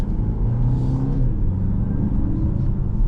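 A 2025 BMW X1 accelerating to 4,000 RPM, a smooth rising engine hum and rumble from inside the cabin, steady and fairly loud with no talking.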